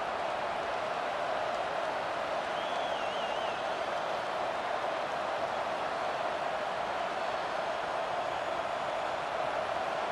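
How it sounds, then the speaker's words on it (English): A college football stadium crowd at the 2024 Missouri Tigers vs. Texas A&M Aggies game keeps up a steady, broad roar, distant and unbroken throughout, with no single cheer standing out. "This crowd bringing the energy and noise early."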